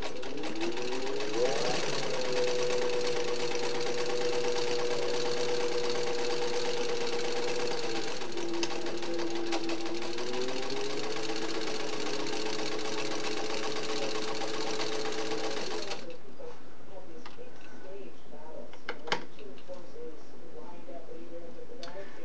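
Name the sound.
Singer 15-91 sewing machine stitching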